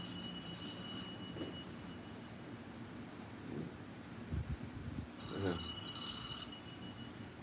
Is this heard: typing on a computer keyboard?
no